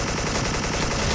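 Sustained automatic AK74 rifle fire in the Special Force shooter game, a dense continuous burst of rapid shots that fills the whole moment at loud, steady volume with no talking.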